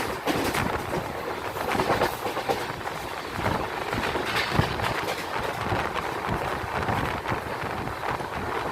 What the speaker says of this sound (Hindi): यहाँ पर हमारी ट्रेन गोंडा कचहरी रेलवे स्टेशन से बिना रुके तेज़ रफ्तार में निकलने वाली है